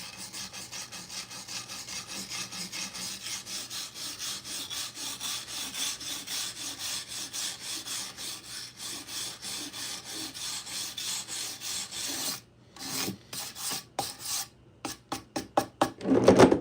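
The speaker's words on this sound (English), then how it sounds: "There goes the sander." Power sander working a wood slab, a steady raspy rubbing drone for about twelve seconds, then choppy on-off strokes as it stops and starts, close and loud with no talk.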